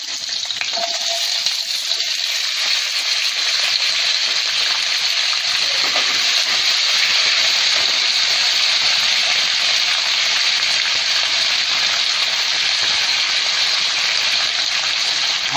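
Diced potatoes hit a pan of hot oil with cumin, bursting into a loud, dense, continuous sizzle that holds steady and close throughout with no talking.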